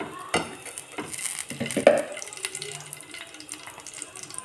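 Desi ghee heating in a hot pan for carrot halwa, with light sizzling, spoon clinks and scraping in short bursts, fairly close.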